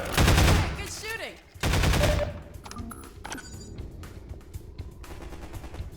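Automatic gunfire in Half-Life 2: Episode One in the City 17 ruins, two loud close bursts of rapid shots separated by a short gap, followed by quieter scattered game sounds.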